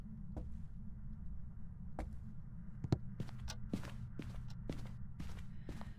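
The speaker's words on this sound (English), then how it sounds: "you can only ever hear their footsteps when they're hunting" Ghost footsteps heard during a hunt in a video game, a slow irregular series of soft thuds and scuffs that grows busier toward the end, sitting over a low droning hum with no speech.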